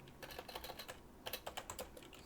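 Fast bursts of computer keyboard typing, close and crisp, with rapid clicking keystrokes in two clusters separated by a short pause.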